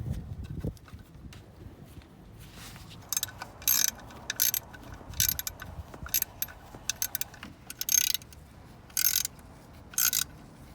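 Screws being driven back into the ignition coil mount on a 1996 Ford F350 with a 460 engine, heard as a series of short, close metallic ratcheting bursts spread through a quiet garage.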